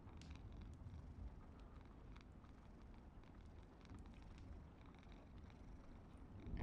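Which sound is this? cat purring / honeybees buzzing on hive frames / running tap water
cat purring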